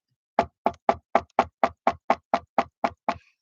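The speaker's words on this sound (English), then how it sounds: "I knock on wood." Eleven sharp knocks on wood in a steady, even rhythm, each crisp and close, with silence between them and no voices.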